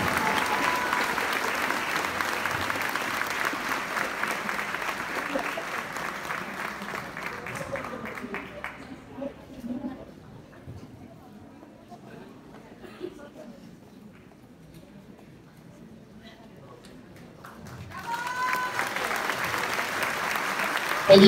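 Applause at a secondary school graduation ceremony sending off a marching band, loud at first, then thinning into a quiet stretch of murmurs and faint sounds before clapping swells again near the end.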